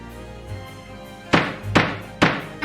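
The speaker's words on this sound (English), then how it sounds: "had to go for a dramatic gavel sound there" Three dramatic gavel strikes land as sharp, heavy wooden thunks in a quick sequence, close and loud, with no talk.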